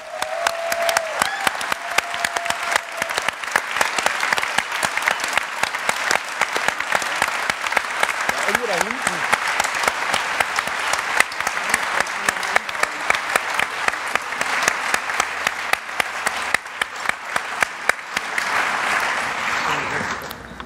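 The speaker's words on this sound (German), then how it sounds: "Bitte einen tosenden Applaus für die Jungs." Sustained loud audience applause fills a closing ceremony at a digital-culture conference, dense clapping running steadily from start to finish, with a brief whistle or voice near the start.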